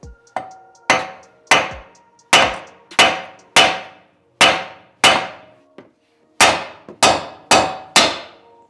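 Hammer blows on a car's tie rod ball joint to knock it out of the steering knuckle during a BRZ/FRS/GR86 tie rod install; about a dozen loud, sharp metallic strikes ring out in an uneven rhythm, close up.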